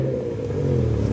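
A car travels steadily at about 70 km/h in traffic, its engine hum and road rumble close and continuous through the whole short stretch.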